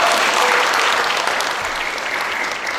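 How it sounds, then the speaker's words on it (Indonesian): A live audience gives steady, dense applause for Yai Panji at a stage performance event, a loud, continuous wash of clapping that fills the whole stretch without a break. "Boleh tepuk tangan buat Yai Panji."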